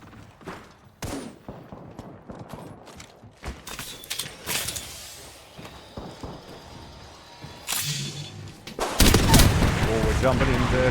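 Triple Take marksman rifle fire in Apex Legends during a competitive match: sharp shots spaced out amid other battle noise and scattered gunfire, with voices faintly underneath, ending in a loud sustained burst of action.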